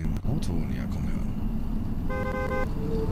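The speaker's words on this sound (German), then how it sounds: "ich habe ein Auto näher kommen hören" A car draws closer at night with a low engine rumble, then a short, steady horn tone sounds. Voices and other sounds are heard around it.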